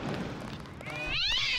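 A cat in the Deus Ex video game gives one clear, rising meow close by, following a brief stretch of muffled background noise.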